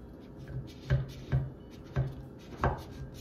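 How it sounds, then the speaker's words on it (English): A knife cutting slices through layered baklava before butter is added, several soft, separate crunching cuts at a gentle, uneven pace, close and quiet with no talk. "now I'm gonna go ahead and cut and make slices for baklava"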